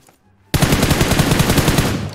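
In PUBG Mobile, a loud, close burst of automatic gunfire breaks out after a short near-silence and keeps up a rapid, even rhythm of shots.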